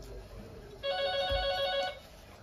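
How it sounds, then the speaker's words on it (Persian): A mobile phone rings in a sewing studio, a bright repeating electronic tone that starts abruptly, holds steady for about a second, then stops, loud and close above faint room noise. "چرا گوشی رو بر نمیداری؟"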